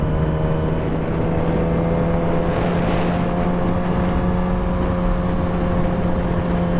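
Custom Yamaha R6 motorcycle pulling in third gear around 4,500 RPM, a steady close engine whine with a rising buzz, wind rush constant underneath.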